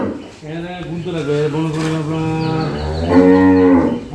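Cows moo in long, drawn-out calls, one after another, loud and close on a dairy farm, with faint background noise between them.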